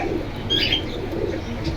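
Pigeons cooing at a busy pigeon market, a soft low warble rising briefly over a steady murmur of background noise, moderately close.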